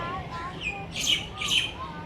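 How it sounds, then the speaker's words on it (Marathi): Two short, shrill bird calls ring out close together over a quiet outdoor background at Kamala Nehru Park in Mumbai, with a faint murmur of voices. "कोणी नहीं है पक्षी है"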